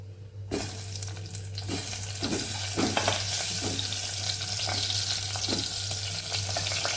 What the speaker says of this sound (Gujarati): હિંગ ઉમેરી અને આ શાકનો આપણે વઘાર કરી લેવાનો છે